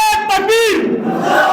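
Crowd at a political rally chants the Takbir slogan in unison, a loud chorus of raised voices with a leader's tone rising above, ringing out for over a second.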